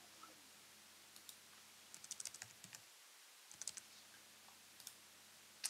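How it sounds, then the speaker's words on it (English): Short bursts of typing on a computer keyboard while entering a telescope mount name into astronomy control software, crisp individual key clicks in small clusters over a quiet hum, near and alone. "I'm going to go ahead and just type in gem."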